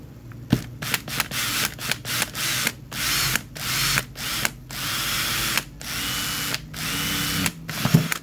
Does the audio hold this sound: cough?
no